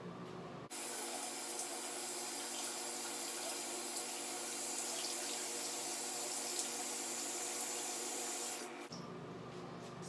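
Water runs steadily from a bathroom tap for about eight seconds while someone wets their face, a close, continuous broadband hiss with faint splashing, starting and stopping abruptly.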